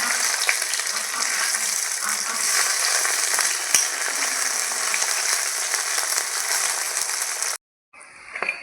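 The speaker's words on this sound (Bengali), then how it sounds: "বাকি মাছগুলো আমি একইভাবে ভেজে নেব" Fish pieces frying in hot oil in a wok, a steady dense sizzle holding loud and close for several seconds before cutting off abruptly, with a brief return at the end.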